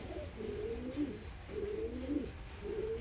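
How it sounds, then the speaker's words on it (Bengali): A young pigeon coos softly in a loft, giving three low, rolling coos spaced evenly over a faint steady background hiss. "কবুতরটা নতুন বাচ্চা, জল খাবে কীভাবে বুঝতে পারছে না।"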